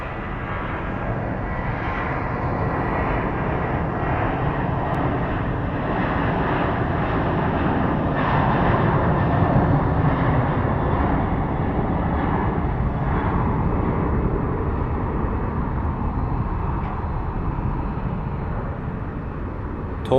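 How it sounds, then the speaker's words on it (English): An airliner bound for Tulsa spools up its engines at Phoenix Sky Harbor International Airport, a steady broad roar that swells slightly midway and holds for about twenty seconds with no voices. "And the Tulsa plane has come to life."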